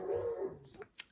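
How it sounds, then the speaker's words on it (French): Dogs bark and growl faintly, with a brief muffled bark near the end and a low rumble before it, somewhat distant and quiet. "Ils sont cons les chiens d'aboyer"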